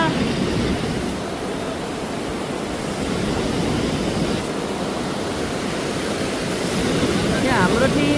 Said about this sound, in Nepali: मोलुङ खोला